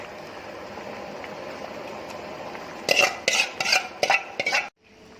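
Red ant egg curry with bamboo shoots stirred in a pot, a run of clattering utensil scrapes against the pot over a steady low simmer, close and distinct, stopping abruptly.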